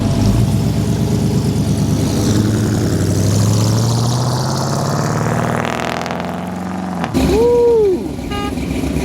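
A classic car engine idles and rumbles loudly at a Houston car show, a steady low throb that swells around the middle before a short break and a quick revving burst near the end.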